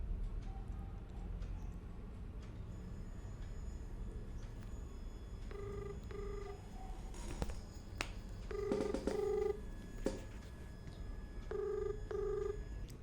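A phone call rings out through a speakerphone, its electronic ringback tone sounding in three short double bursts spaced a few seconds apart over a quiet room with no talking.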